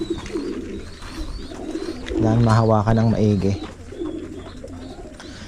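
Pigeons coo nearby in low, rolling calls while someone talks before and after.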